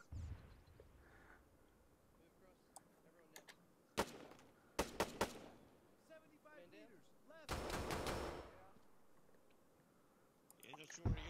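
Gunfire in the military shooter ARMA 3 during a night mission: a few scattered distant shots, then sharp loud bursts around the middle and a longer heavy volley, with quiet ambience and some talk in between.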